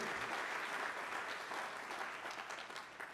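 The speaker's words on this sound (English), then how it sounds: "Let's share a round of applause for our amazing MCs, Claudine and Matt, our announcer, Drew Kahn" Steady applause from an audience at a college anniversary celebration, dense and sustained clapping throughout with no voices standing out.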